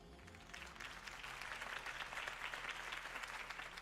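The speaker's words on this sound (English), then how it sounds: "If only Mr. Wayne, my campaign's largest backer, could have heard that applause" Crowd applauding after Harvey Dent's campaign speech in the video game Batman: The Telltale Series, a sustained wash of many hands clapping that swells and holds, distant-sounding and fairly soft.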